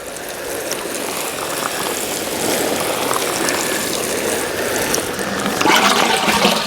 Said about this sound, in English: I think I'm going to water over it a little bit more